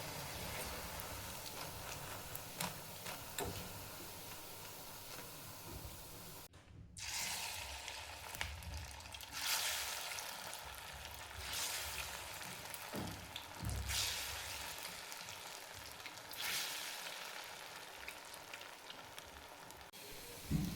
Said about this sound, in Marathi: दोन्ही साईडनी पण व्यवस्थित असे तळून घ्यायचे।